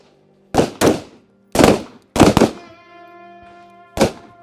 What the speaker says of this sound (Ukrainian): По команді ап прицілились, зняли з запобіжника, виконали постріл